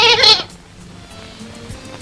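A single loud, close bleat from a goat or cow in a rural farm setting, lasting about half a second and followed by quiet outdoor ambience with faint low rumbles.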